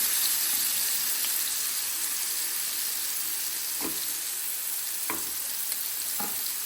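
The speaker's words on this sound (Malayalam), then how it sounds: "ഈ നാലെണ്ണവും ഞങ്ങളിപ്പോൾ തന്നെ വറക്കും" Fish sizzles and crackles steadily in hot oil, with a few sharp scraping clicks from a utensil.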